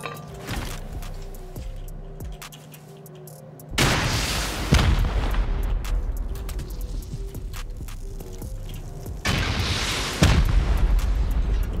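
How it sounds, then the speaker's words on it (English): Two heavy rocket blasts in the game Rust, each a loud broadband boom with a long rumbling tail, tearing through a turret; a quieter stretch of ambient game sound comes before the first hit. "we need to rocket this turret probably"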